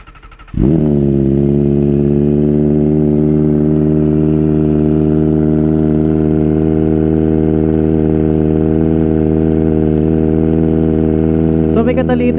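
A Kawasaki ZX-4RR motorcycle with a slip-on exhaust and its catalytic converter still fitted fires up after a brief crank, then settles into a loud, steady, buzzy idle that rises slightly near the end.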